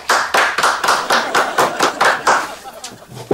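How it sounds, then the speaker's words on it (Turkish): Hand claps at an okey table, about a dozen sharp claps in a steady quick rhythm, close and fairly loud, with a voice talking over the clapping. "Alkış."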